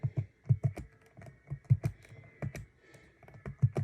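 Quick, irregular clatter of keystrokes on a Surface tablet's detachable keyboard, close and crisp, with short pauses between bursts and no voices.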